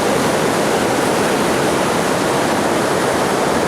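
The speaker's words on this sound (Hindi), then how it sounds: "और किस तरह कदर शोर के साथ ये नाला बह रहा है" Kargah Nala, a mountain stream in Gilgit-Baltistan, rushes in a steady, loud, broadband roar of churning water, close and constant without any voice.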